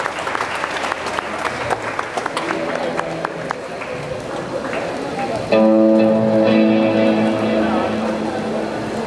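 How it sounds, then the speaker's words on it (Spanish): An audience applauds at a live outdoor concert, dense clapping sustained for several seconds before a voice comes in over amplified sound as the clapping carries on beneath it. "Un aplauso para todas las personas, por fin."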